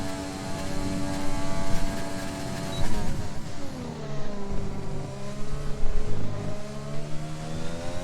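A race car engine revs hard through gear changes on a lap of Spa-Francorchamps in a racing video game, rising and falling pitch sweeps heard close and loud without talk.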